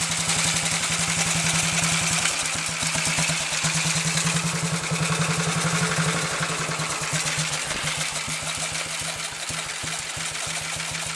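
A 1929 AJS 500 motorcycle engine runs steadily after a rebuild, with a loud, even thumping beat held throughout and no talking.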